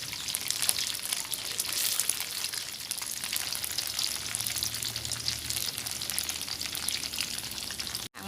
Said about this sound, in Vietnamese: Các bạn cho mì căng vô rồi các bạn chiên cho nó vàng hết tất cả các mặt nha các bạn